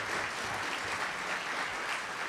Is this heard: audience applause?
yes